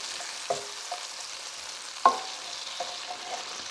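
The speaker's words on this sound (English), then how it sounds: "We're going to stir these around. And I just want these onions to start getting a little bit soft." Onions being stirred as they fry in a hot pan, with a low steady sizzle and a few sharp scraping knocks of the utensil against the pan, one louder than the rest.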